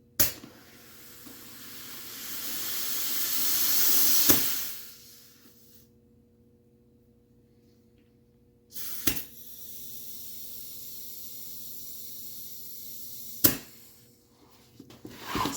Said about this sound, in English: push against the valve stem sideways, just to keep it in the right spot as you pump it back up